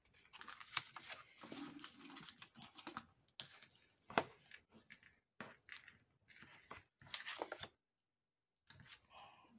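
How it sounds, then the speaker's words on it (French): A paper trimmer cuts card stock at close range with quiet crisp slicing and clicking strokes in short irregular bursts, separated by brief pauses. "J'ai mon massicot qui commence."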